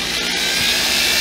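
Electric drill running steadily throughout, its motor whine loud and continuous with its speed set by a 20A variable transformer.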